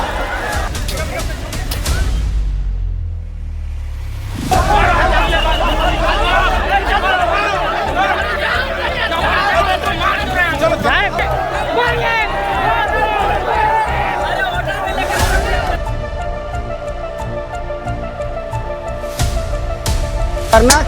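Crowd of protesting students in Jharkhand pushing forward, a dense roar of shouting and babble that drops out briefly near the start, then continues loud and close under a voice talking over it.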